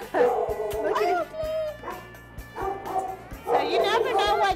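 Dogs at an animal shelter bark, yip and whimper in overlapping bursts close by, while a person talks over the noise.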